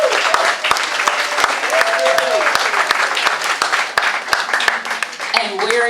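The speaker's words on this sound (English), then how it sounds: "And now a round of applause for our pianist, Judy Hewlett" Audience applause for a pianist at a community follies show, a steady wash of clapping with distinct sharp claps standing out and voices talking over it.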